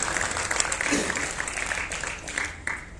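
Audience applause at a Hindi comedy poetry recital, a steady burst of clapping from a crowd that fills the short moment at an even, moderate level.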